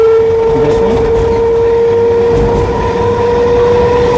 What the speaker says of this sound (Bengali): ট্রেন এখন তারকেশ্বর পেরোলো